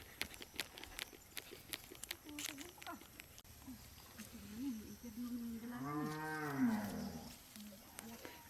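Cows moo on a rainy, muddy farm near a creek, with a long drawn-out lowing call rising near the end over faint background noise and scattered clip-clop sounds.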